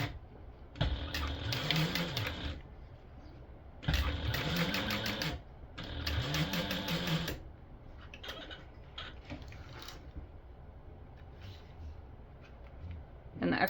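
A sewing machine topstitches a stadium bag gusset in three loud, steady runs of whirring stitches separated by pauses, with softer mechanical handling noises after.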